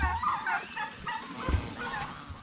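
Male turkeys on a farm, about a dozen toms, gobble in repeated rattling bursts, several birds calling over one another at close range, loud and continuous with no talking.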